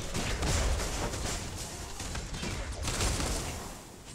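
Dense, continuous forward-firing gunfire in the game Twinblast, rapid shots blurring into a steady barrage with occasional heavier bursts, loud and close throughout.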